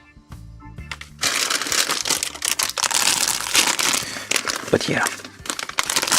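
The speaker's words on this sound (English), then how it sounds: "ASMR section of the show where we crinkle some plastic" Plastic packaging from a Kotobukiya 1/35 Border Break Heavy Guard Type II model kit crinkles loudly and continuously up close, with crunchy rustling bursts, after a brief quiet lead-in with speech over it.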